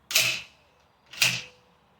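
Two crisp metallic clacks about a second apart, close and loud with no talk, from the bolt of an SCSA Taipan X pump action rifle locking back.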